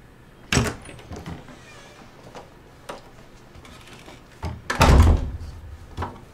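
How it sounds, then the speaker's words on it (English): A door jammed shut in the horror game Erica: a sharp thud, then scraping and knocking, and a heavy rattling slam near the end, loud and close with no talking. "Jam the door."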